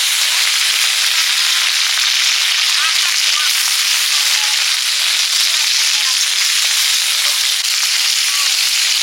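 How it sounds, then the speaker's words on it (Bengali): Five-spice tempering with dry red chillies and bay leaf hitting hot oil, a loud close continuous sizzle and crackle, with pops spread throughout and no voices. "ঘ্যাঁটে ফোড়ন দিয়ে দেবো, 5 ফোড়ন, শুকনো লঙ্কা, তেজপাতা"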